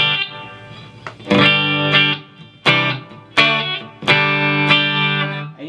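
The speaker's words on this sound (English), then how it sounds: "Just a touch of reverb." A Marshall MG15HCFX mini stack amp set to a clean channel with a touch of reverb rings out as several strummed guitar chords, each decaying with a short tail.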